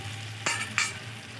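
Food stirred in a frying pan after spiced water is added, a low steady sizzle broken by two quick scraping strokes of a spoon, close and clear, no speech.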